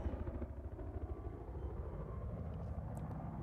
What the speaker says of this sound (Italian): Il nostro elicottero.